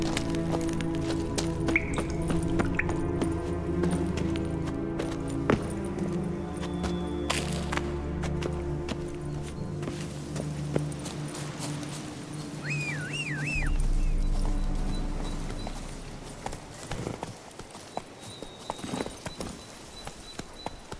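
Horse hooves clip-clop steadily in The Witcher 3 game world, a moderate rhythmic trot with occasional snorts and game sounds, fairly close and without speech.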